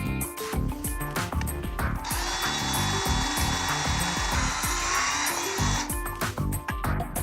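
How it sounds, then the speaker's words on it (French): Electrical cable is unrolled from a reel and cut with a cable cutter during a cable bus installation, with close, dense rubbing and repeated knocking plus a sustained metallic whine through the middle, loud and without talk. "Déroulez une longueur de câble en suivant les repères au plancher et coupez à l'aide d'un coupe-câble."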